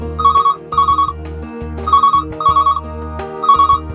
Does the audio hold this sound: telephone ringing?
yes